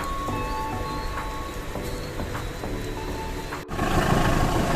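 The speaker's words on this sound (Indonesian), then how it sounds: "Hujannya lumayan deras ya." Heavy rain falls around a train stopped at Cikampek station, a dense steady hiss of drops with scattered knocks, rising louder after a brief dip near the end.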